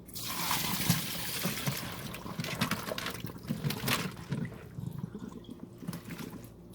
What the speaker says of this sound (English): We are going to pour it into the strainer.